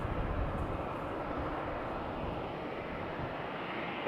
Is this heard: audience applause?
no